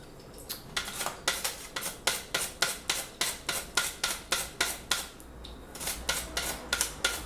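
An onion is pushed across a Borner V-slicer in steady, rhythmic strokes, each pass a crisp, close slicing rasp repeating about twice a second, with a short pause partway through and no talk.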